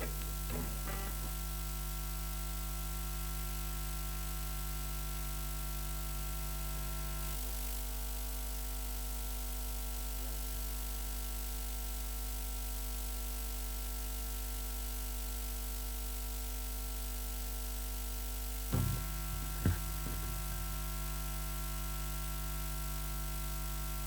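Steady electrical hum and static from the pickups of a Gibson Les Paul electric guitar, a constant buzzing drone with faint brief clicks near the start and end.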